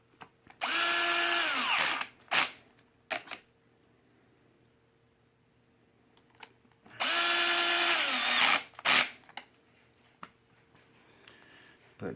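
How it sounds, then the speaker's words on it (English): A power drill with its clutch set low drives screws into the plastic of a Traxxas X-Maxx RC truck. Two whirring bursts, each about a second long, rise and wind down, with handling clicks and taps between them. "If you're using a drill, you're going to want to set your clutch low"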